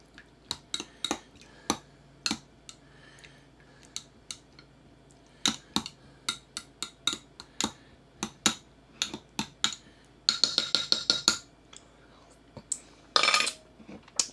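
A metal spoon clinks against a cup again and again at an uneven pace, then speeds into a quick burst of rapid taps near the end.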